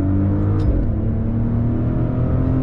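A 2022 Maserati Ghibli Modena sedan accelerates under throttle, its engine a loud, close, deep drone whose tone climbs gradually as revs build, with no voices over it.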